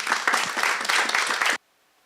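Audience applause at an academic humanities conference session, a dense burst of many hands clapping close and loud for about a second and a half, then stopping abruptly into near silence.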